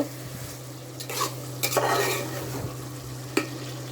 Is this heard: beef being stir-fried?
yes